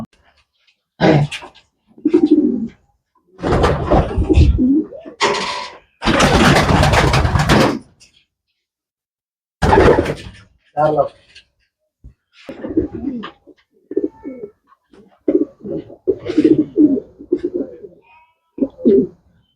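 Racing pigeons at a long-distance racing loft coo in close, repeated bursts, broken by loud broadband rustling and handling noise, with some quiet talk between the calls.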